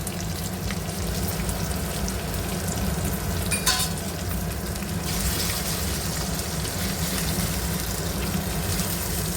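Ginger garlic paste fries in hot oil in a pan for green chilli pulusu, giving a steady close sizzle with occasional stirring scrapes and a brief clatter partway through, no talking.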